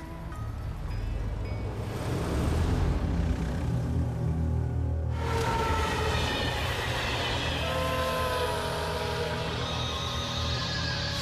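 A train rumbles in steadily, its low roar building and then joined by screeching, squealing wheels and a sustained horn-like tone, loud and continuous.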